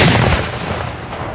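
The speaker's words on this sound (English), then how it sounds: "Cannons fire a ceremonial shot" Ceremonial cannons fire a single booming shot at a patriotic outdoor event at a country club, a loud, close blast whose rumble rolls out and decays over about a second with no talk.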